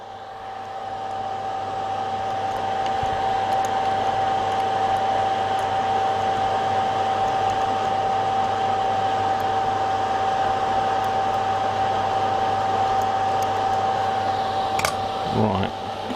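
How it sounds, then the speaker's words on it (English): A solder fume extractor fan runs steadily close by while resistors and wiring are reworked on a Bush DAC10, giving a constant whirring hum with a faint tone throughout and a brief clatter near the end. "It's me with the extractor, forgot to put it on."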